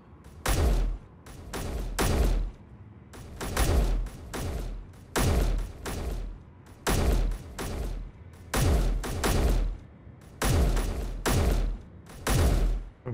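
Rapid bursts of gunfire in Space Engineers aimed at a turret, loud clustered shots repeating in regular groups about every one to two seconds, each burst cracking sharply with short decays between.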